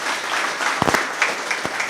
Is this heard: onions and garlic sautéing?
no